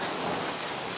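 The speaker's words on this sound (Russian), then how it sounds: "Это дождь." Steady heavy rain pours down during an August thunderstorm in Kharkiv, a dense, loud, continuous hiss with no voices.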